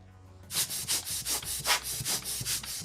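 A vinyl record being cleaned, heard as soft rhythmic brushing strokes, about a dozen close, quiet swipes in a steady back-and-forth rhythm after a brief pause, with no voices.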